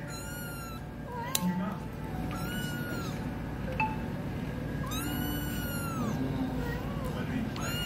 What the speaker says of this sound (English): You meow as much as you want.